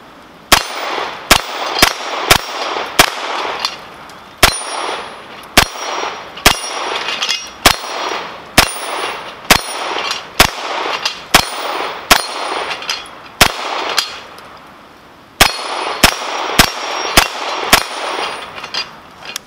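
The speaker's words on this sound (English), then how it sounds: "We'll bring you a little shooting here, some range footage" Gunshots from an F5 rifle fed by a drum magazine at a shooting range: about twenty sharp, loud reports in an irregular rhythm, some in quick pairs, each followed by a brief ringing tail.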